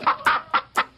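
Chicken clucking from a radio advert about raising chickens for food: five short, loud clucks in a quick, even rhythm, close and clear with no talking.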